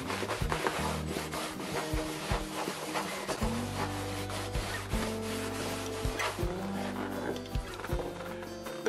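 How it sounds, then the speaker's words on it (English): Old leather saddle bags being polished by hand in round circular motions, giving a steady close rubbing and scuffing with irregular knocks and bumps throughout. "I always use the kind of round circular motions in applying it and polishing it back off."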